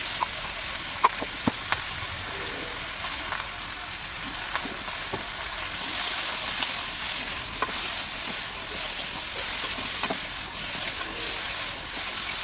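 Vegetables sauté in a pan with black cumin and green chili, giving a steady hissing sizzle up close, punctuated by scattered clicks and scrapes of a stirring utensil, with no talking.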